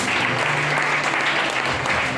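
A church congregation bursts into loud, dense applause, a continuous wash of many hands clapping close together for a couple of seconds, with faint voices mixed underneath.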